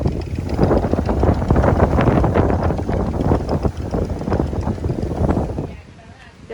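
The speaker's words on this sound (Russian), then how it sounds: "поднялся сильный ветер" Strong wind gusts across a village in Turkey, a loud, steady broadband rumble buffeting the microphone that eases off near the end.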